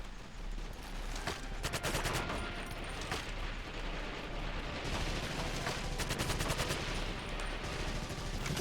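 Gunfire in Medal of Honor: European Assault crackles in rapid bursts over a constant loud battle din, with automatic volleys clustering at moments.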